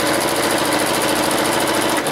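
A sewing machine runs steadily, stitching a quilting seam in one continuous, loud, even mechanical whir with no talking.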